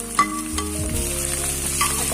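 Onions frying in a little oil with minced chicken qeema, a strong steady sizzle close by, broken by a few clinks and scrapes of stirring, with no one speaking.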